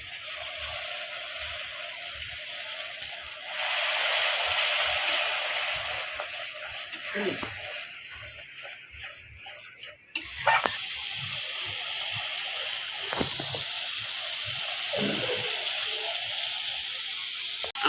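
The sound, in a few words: frying spice masala with tomato paste in pan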